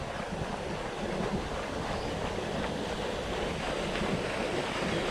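Water pours from a small fountain or chute along a park connector path, a steady broadband rushing wash that stays even throughout with no speech.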